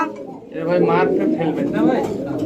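A pair of yellow Helmet pigeons at a farm coos softly in low, rolling tones, partly buried beneath a voice talking close by.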